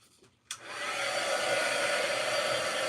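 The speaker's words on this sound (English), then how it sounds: "When you're using a heat tool to dry metal, just remember the metal gets hot." A handheld heat tool blows steadily to dry metal for a muffin tin craft, kicking on with a click and then roaring as a loud, constant airflow hiss close by, with no talking.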